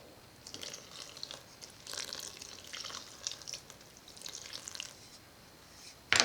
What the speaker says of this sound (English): All I do is add water to it.